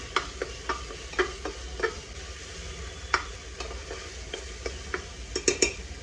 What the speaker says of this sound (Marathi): हिच्यामध्ये मी टाकते थोडासा गोडा मसाला हलवून घेते